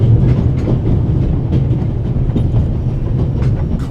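A moving steam train in the Swiss Alps in The Raven: Legacy of a Master Thief, steady loud rumble with rhythmic clickety-clack of wheels on rail joints throughout.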